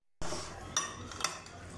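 Soft clinks and scraping of a utensil against a plate as food is mixed with spices, a couple of distinct clinks over a low background, no talking.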